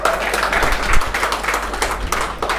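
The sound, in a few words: audience clapping at a poetry recital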